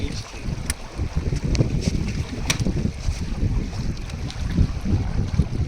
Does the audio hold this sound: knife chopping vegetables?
no